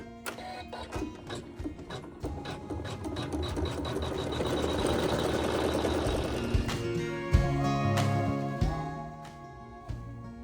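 Machine stitching on a quilting block, a dense, steady run of rapid needle strokes, close and loud, continuing for about seven seconds before slowing into a few separate clunks and clicks.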